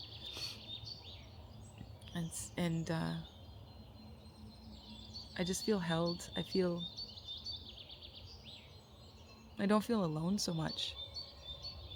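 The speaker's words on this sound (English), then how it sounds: "hear the birds chirping." Birds chirp outdoors in a natural setting, short bursts of calls scattered through the clip beneath someone speaking softly, with faint steady background ambience.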